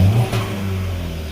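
A car engine, just fitted with newly changed and gapped spark plugs while chasing a misfire, revs briefly and then settles to a steady, close, mid-pitched hum.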